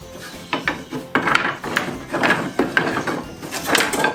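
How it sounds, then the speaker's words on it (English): An old drum sander works pallet wood offcuts, giving close, uneven bursts of gritty rubbing and scraping as pieces are pushed through, with irregular mechanical knocks between passes and no talk. "it's my old drum sander"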